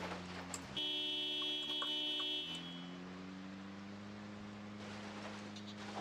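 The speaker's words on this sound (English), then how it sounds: "No way you guys heard that alarm." A loud, steady buzzing alarm blares in the video game Project Zomboid, holding for about two seconds over a low engine-like hum before cutting off, leaving the drone running on alone.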